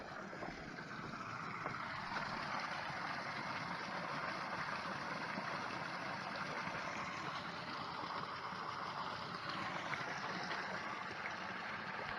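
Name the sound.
small waterfall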